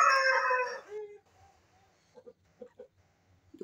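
A rooster crows loudly at the start, then soft clucks and brief calls from chickens follow in a quiet farmyard.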